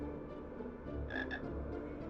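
A frog croaks in a video game, a couple of short, clear croaks over steady game background noise and music, with no talking.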